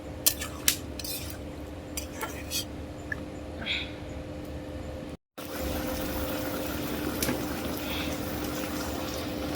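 A spoon stirs vegetarian curry in a cooking pot, with faint clinks and scrapes over a steady bubbling simmer and a constant background hum.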